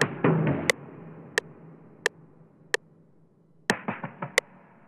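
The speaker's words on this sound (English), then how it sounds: "I took this drum fill" A drum fill from a sampled drum kit: a dense opening burst of hits, then sharp isolated knocks at steady intervals, closing with a quick cluster of decaying strikes, all crisp and close with no voices.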